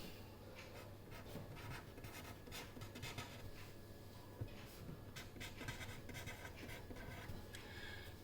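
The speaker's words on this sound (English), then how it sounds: "So I am drawing the truth table." Pen scratching across paper while a truth table for a clocked SR flip-flop is drawn, faint repeated strokes and rubs in short irregular bursts over a quiet room hum.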